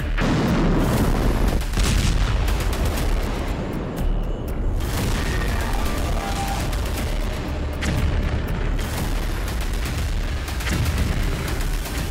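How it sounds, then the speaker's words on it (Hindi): Loud, heavy nuclear missile explosion booms rumble and crack in the sky one after another, dense and continuous, with deep low-end roar throughout. "आसमान में एटमी मिसाइल से धमाका"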